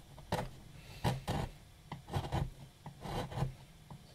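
A wood carving gouge smooths a hand-carved wooden rosette relief, giving a run of close, loud rasping scrapes in irregular bursts, with no voices.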